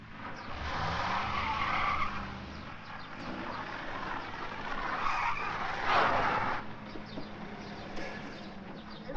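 Cars skid and drift, raising dust, with repeated tire squeals and engine noise that swell and fade, loudest around the middle, with no one speaking.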